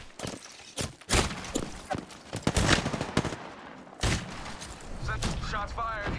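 Gunfire from a Mastiff shotgun in Apex Legends: a run of sharp, loud shots at uneven intervals, with game sounds and a voice talking over part of the exchange.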